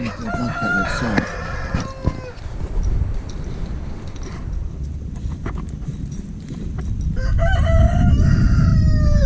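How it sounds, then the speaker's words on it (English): A rooster kept in a duck pen crows loudly and close by, with a clear crow near the start and another toward the end, among scattered clucks and rustling barnyard noise. "as you guys probably heard, the rooster that's in the duck pen"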